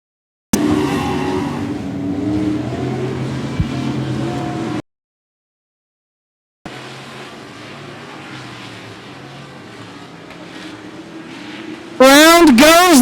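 Race cars thunder around the 105 Speedway oval in a steady roar with a brief silent break, finishing with a loud close pass that swoops in pitch. An announcer talks over the engines.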